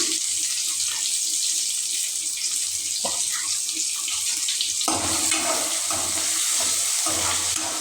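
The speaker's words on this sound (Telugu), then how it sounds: "ఇవన్నీ ఫ్రై అయిపోతున్నాయి." Green chilies, tomatoes and other vegetables frying in a pan for egg masala curry, a loud, continuous hiss and crackle close by that swells brighter partway through, with no talking.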